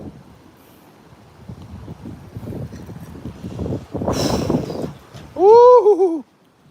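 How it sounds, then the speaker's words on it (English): Wind gusts across an outdoor pond, a low rumbling buffet with one stronger blast partway through, then a voice lets out a loud whoop near the end. "That wind is blowing."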